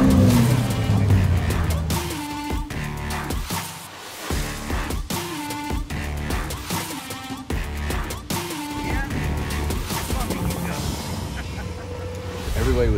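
A fast, expensive open-top car drives at speed, engine and road noise running continuously and fairly loud, with music and voices layered over it.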